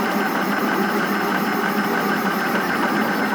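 A 2016 out-of-the-box 3D printer running Klipper firmware at high speed gives off a steady, loud mechanical whir and buzz from its motors, unbroken throughout.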